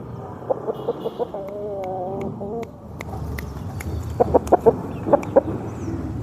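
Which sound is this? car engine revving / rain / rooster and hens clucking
rooster and hens clucking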